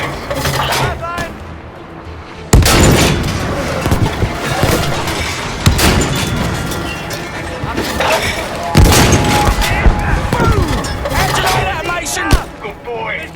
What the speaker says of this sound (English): Incoming rockets.